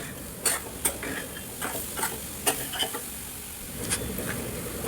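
A spoon taps and scrapes rhythmically against a pan while grated coconut and jaggery are stirred for modak filling, soft irregular clicks over a faint sizzling background.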